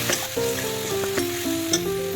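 Spices and coriander-cumin powder fry in oil in a pan for daal makhani, giving a steady, close sizzle with light stirring under soft background music, and no one talks.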